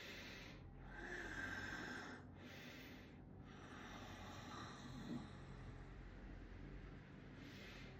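Slow, steady Ujjayi breathing on the exhale, a hoarse throat-constricted whoosh like Darth Vader's breath, drawn out close and continuous for several seconds with brief pauses between breaths and no talking.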